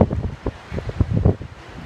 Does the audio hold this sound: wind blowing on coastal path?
yes